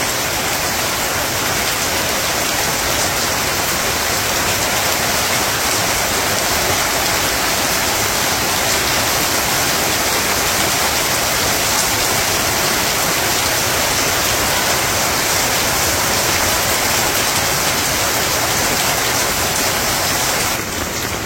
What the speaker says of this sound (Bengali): ঝড় করে ধরতেছে।